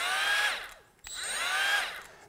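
A Milwaukee M12 FUEL 1/4-inch straight die grinder with nothing in the collet spins up to a high whine, drops off for a moment, then ramps up again into a steady close-range whir.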